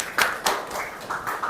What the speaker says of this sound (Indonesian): apresiasi buat kalian, tepuk tangan ya